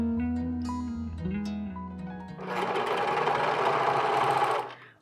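A sewing machine runs a stitch around the waistband of men's pants, starting with slow, tonal whirring and then racing into a dense, steady mechanical rattle, close and loud before stopping abruptly.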